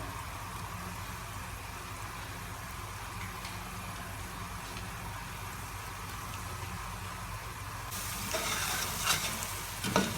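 Tomato sauce goes into a hot frying pan with lamb pieces for Saudi kabsa, giving a constant soft sizzle under scraping stirs, with a few louder clatters of the spoon near the end.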